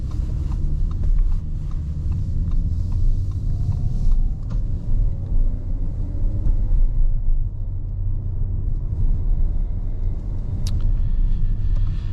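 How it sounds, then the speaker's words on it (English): A 2024 Audi A7 Prestige with a V6 drives along, giving a steady low cabin rumble of engine and road noise throughout, smooth and even with no sharp events. "Very, very quiet. This V6 is smooth and quiet"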